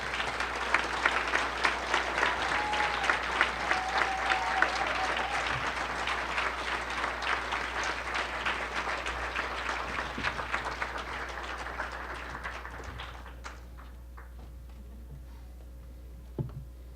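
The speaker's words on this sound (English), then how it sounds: "Go ahead, you can give another round of applause." An audience applauds at a journalism hall of fame induction ceremony, steady dense clapping for about thirteen seconds before it thins to a few scattered claps.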